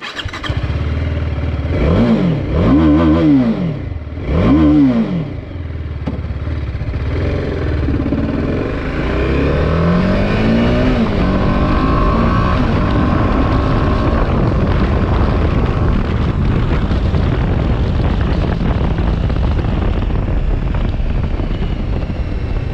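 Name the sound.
TVS Apache RR 310 motorcycle engine revving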